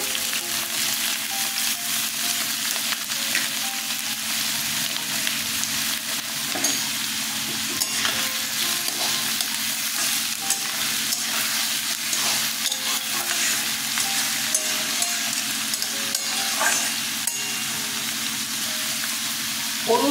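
Onions and chillies hit hot oil in a pan for a dried-fish bharta, giving a loud, continuous sizzle with stirring scrapes layered on top and no pauses.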